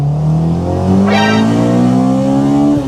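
A Honda Civic EJ9 with a B18 engine revs hard inside the cabin, pitch climbing steadily and then jumping sharply as VTEC engages, loud and close, with the engine note rising continuously to the end.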